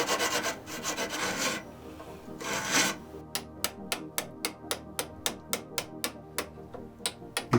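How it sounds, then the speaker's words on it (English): Hand tools rasp solid timber in a bout of woodworking: a few long, loud scraping strokes, then a steady, rapid series of short, sharp strokes, close and alone. "actually do a little hand tool woodworking"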